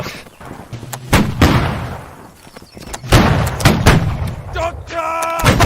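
Musket volleys in the online battle game Holdfast crack out as several sharp, loud reports, some close and some distant, with shouting voices between and over the shots.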